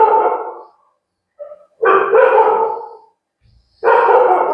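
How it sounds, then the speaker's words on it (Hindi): Several dogs barking close by in bursts, loud and harsh, with three separate volleys broken by brief pauses and a small yip in between. "आसपास में सब भौंकने लगता है सब"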